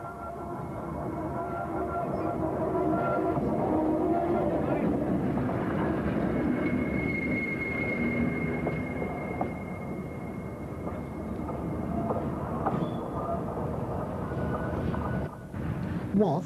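Locomotive 76056 on the 1950s Woodhead Line passing through Victoria station, a broad rumbling roar with rattling and a thin sustained whistle-like tone, building and fading as it goes by, with narration over it.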